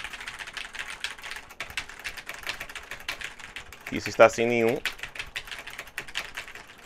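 Rapid clicking of computer keys typed steadily throughout, close and crisp, with a brief spoken phrase partway through.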